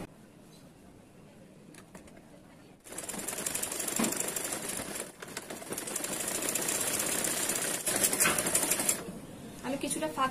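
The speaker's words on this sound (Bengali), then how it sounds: "এখন আমি এখানে একটা সেলাই করে দিব।" A sewing machine stitches pants fabric, starting after a quiet moment and running in a fast, steady whir with brief pauses and changes in pace, while a person talks quietly underneath.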